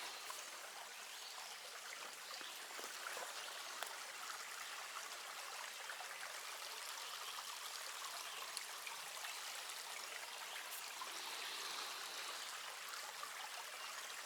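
A small creek runs steadily with a continuous broadband rush and trickle, an even, unbroken flow of water heard close by, with no voices over it.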